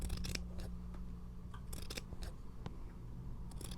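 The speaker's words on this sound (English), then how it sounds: "take your scissors and snip these little" Scissors snip through the fringe of a fabric scarf on a painted snowman shelf, a run of quick, crisp cuts in an uneven rhythm, close and fairly quiet with no voices.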